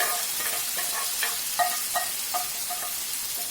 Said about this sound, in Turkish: Şimdi rendelenmiş domatesimizi ekliyoruz tavamıza.